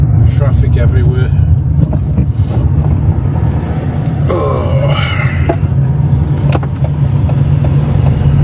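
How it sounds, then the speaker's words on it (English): A van engine idles while warming up on a cold, foggy English morning, a steady low rumble running throughout with faint traffic and other noises over it. "Take about 10 minutes for this van to warm up."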